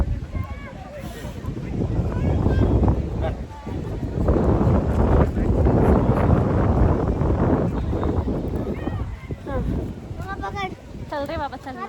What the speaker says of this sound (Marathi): अशी हवा चालली.